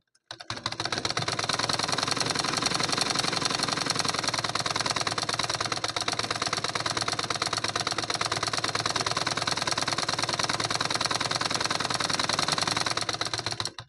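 A sewing machine stitches a cotton lining blouse with a steady, fast, rhythmic whir and needle chatter, running continuously and close for the whole stretch.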